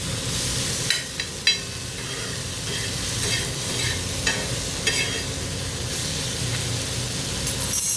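Vegetables stirred with garlic and salt on a hot griddle give off a steady frying sizzle, broken by a few sharp scraping clinks of the spatula, with no one talking.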